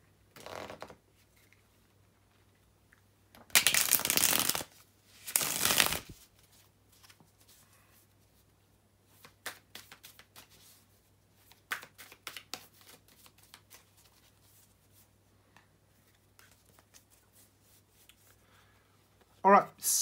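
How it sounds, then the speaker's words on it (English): Tarot cards are shuffled in a few loud, brisk riffling bursts, separated by quieter stretches of soft card handling and taps. "bear with me a second, guys, to shuffle the tarot cards."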